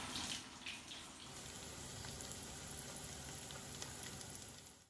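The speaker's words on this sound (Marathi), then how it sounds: "दोन्ही साईडने लालसर रंगावर आपल्याला ते फ्राय करून घ्यायचे" Leftover rice cutlets fry in a pan, browning on both sides, with a close, steady sizzling hiss that continues unbroken and has no talking over it.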